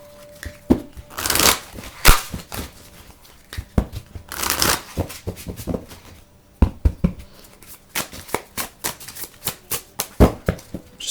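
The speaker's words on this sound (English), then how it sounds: "So I was going to go ahead and shuffle those and these" Tarot cards are shuffled repeatedly, with riffling bursts and quick taps and slaps as the deck is handled close by, no talking.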